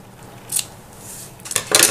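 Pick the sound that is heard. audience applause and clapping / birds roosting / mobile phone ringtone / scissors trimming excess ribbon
scissors trimming excess ribbon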